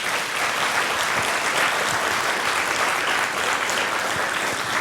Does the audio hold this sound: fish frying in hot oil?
no